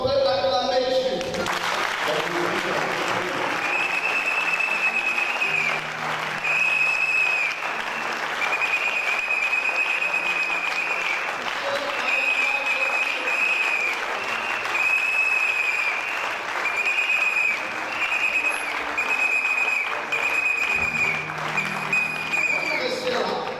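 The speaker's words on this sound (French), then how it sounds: "Est-ce qu'on peut l'acclamer Jésus?" A church congregation applauds and acclaims Jesus at a pastor's urging, loud continuous clapping and cheering swelling right after a brief opening voice, with rhythmic music and shouts running underneath throughout.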